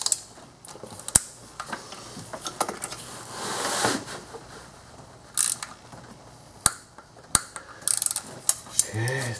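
A ratchet wrench clicks in short bursts while torquing intake manifold bolts on a 2009–2019 Dodge Ram 5.7L Hemi, with sharp isolated snaps and faint mechanical handling noises between them, close and fairly quiet.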